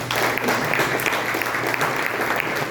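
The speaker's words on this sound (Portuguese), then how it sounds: "Uma salva de palmas ao Senhor Jesus." A church congregation claps together in sustained, loud applause that fills the room, steady and dense from start to finish, with no voices on top.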